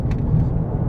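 A small car engine growls gruffly on a track, a dense low rumble held close and loud for a moment without pause.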